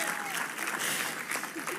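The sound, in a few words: audience applause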